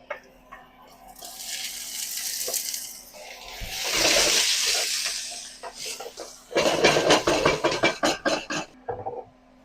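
Tap water runs in bursts with clattering pauses while preparing octopus in a home kitchen, a steady stream rising and falling before a stretch of choppy splashing near the end.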